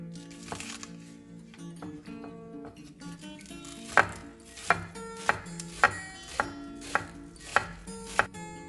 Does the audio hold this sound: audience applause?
no